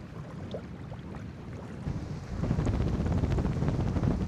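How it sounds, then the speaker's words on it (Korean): Strong wind gusts across the open shore of Soyang Lake, a loud, continuous rumbling roar buffeting the microphone that swells stronger partway through, with no voices. "바람"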